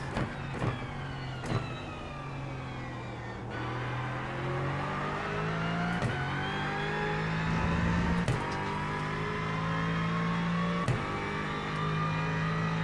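Race car engine from a racing video game, including an early-access Aston and Mustang GT4, droning steadily through a lap with pitch climbing and dropping at repeated gear shifts and braking points, loud and continuous with no talk.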